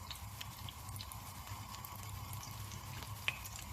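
Garlic, chilli and parsley stems fry in a generous swirl of olive oil in a pan used earlier for potatoes, giving a soft, steady, even sizzle throughout with no voices.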